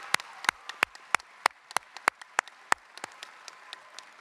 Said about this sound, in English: give a round of applause and thank the teachers and staff that worked with you